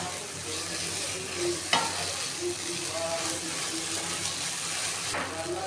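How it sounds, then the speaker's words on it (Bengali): Spice paste for a cabbage curry fries in a little oil, giving a continuous low sizzle with occasional scraping stirs, one sharper knock among them. "মশলাটাকে ভালো করে কষিয়ে নিতে হবে যাতে মশলার কাঁচা গন্ধটা না থাকে"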